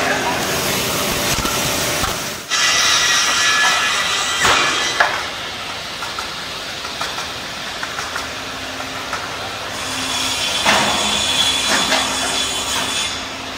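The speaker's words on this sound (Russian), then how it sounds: "Вот такую сучковатую горбылину сейчас попробуем запустить на максимальной скорости." High-speed PR-GL-500 slab processing line feeding and sawing a knotty wood slab: a loud, steady mechanical roar of machinery with sharp knocks and bursts, and a voice talking over it.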